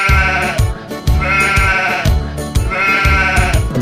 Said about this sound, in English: The sheep on the farm goes ba ba ba ba ba ba all day